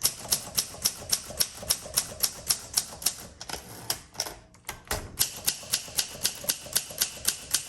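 Rapid mechanical clacks from a 1953 Olympia SM3 manual typewriter, keys striking in a quick steady rhythm with a brief pause midway, close and crisp.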